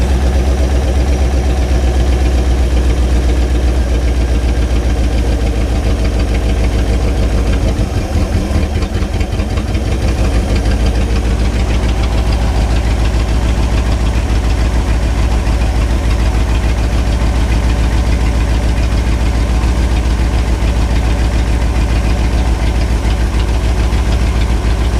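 A 1967 Chevy C10 truck's 327 V8 idles loudly and steadily with no exhaust, an open, uneven rumble and knocking pulse, running nonstop the whole time, close by.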